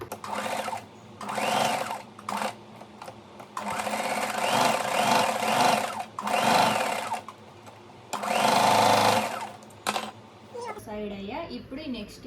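A sewing machine stitches the corners of a deep-neck blouse in repeated bursts of rapid mechanical whirring, close and loud, separated by short pauses, with a voice speaking near the end.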